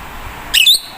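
A parakeet gives a short, sharp chirping call, two quick bright notes close by, over quiet background.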